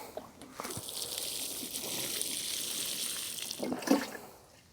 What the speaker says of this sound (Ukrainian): Тепер ми просто прольємо.